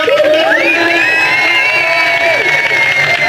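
An audience of children and adults at a NASA space event in Rio de Janeiro bursts into loud cheering after a rocket countdown, with high shouts and whoops over a continuous crowd roar.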